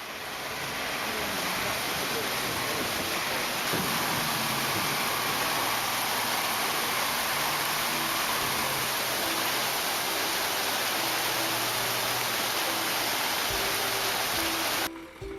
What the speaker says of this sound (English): A truck carrying 40 tons of timber crosses a fast-flowing river.